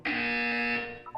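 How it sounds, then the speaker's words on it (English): A loud electronic buzzer from the Portal 2 video game sounds as one steady, harmonic tone held for nearly a second, then fades and gives a couple of brief blips at the end, with no talking. "You will hear a buzzer. When you hear the buzzer, look down at the floor."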